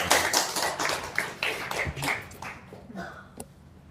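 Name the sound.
audience applause for Kang Abu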